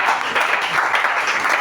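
A church congregation applauds together, a dense, loud, close burst of many hands clapping that carries on without a break.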